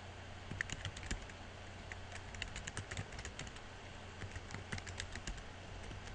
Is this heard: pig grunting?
no